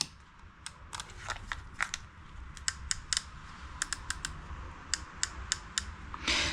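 A Kong Tak Revo hair clipper's levers are clicked again and again, giving sharp, close, irregular plastic clicks, some in quick pairs and runs, over a low background hum with no talking.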